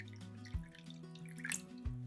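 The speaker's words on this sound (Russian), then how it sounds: "Все заливаем холодной водой примерно по плечике банок" Cold water is poured into a pot holding glass jars set on a folded towel for sterilizing a cucumber salad. A soft, steady trickle with a couple of splashy drips is heard close by, without talk.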